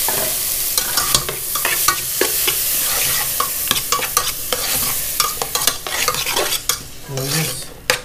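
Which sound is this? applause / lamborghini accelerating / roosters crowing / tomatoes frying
tomatoes frying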